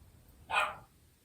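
A dog gives one short, faint bark from a distance, heard alone in a quiet room.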